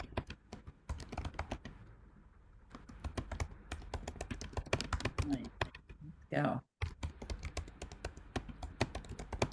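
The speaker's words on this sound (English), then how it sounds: "Somebody's typing away." Rapid typing on a computer keyboard during a study group session, dense irregular clicking close to the mic that runs almost throughout, with a few brief spoken words over it.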